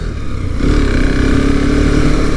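A Husqvarna Svartpilen 701 motorcycle on a test ride, its engine a steady close drone that swells a little after the first half second and holds under wind noise.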